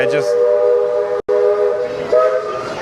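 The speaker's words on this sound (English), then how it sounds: "You can hear the steam whistle from Walt Disney World Railroad" A loud, sustained steam train whistle from the Walt Disney World Railroad sounds with a steady tonal blast, briefly cut off, then continues and shifts pitch near the end.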